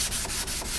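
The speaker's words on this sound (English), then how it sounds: "I'm literally sanding the vinyl here." Hand sanding strips vinyl off a Benelli motorcycle's plastic fairing, making a quick series of close, gritty rubbing strokes in a steady back-and-forth rhythm.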